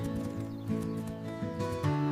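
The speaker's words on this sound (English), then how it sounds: "Wow, fast horse." Rapid hoofbeats of a galloping horse under a steady tonal backdrop, with a brief rise in loudness near the end.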